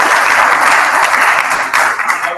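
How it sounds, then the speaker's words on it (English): Steady, dense round of applause from an audience at an AI symposium event, loud and continuous for the whole stretch with no talking. "Can we give them a round of applause?"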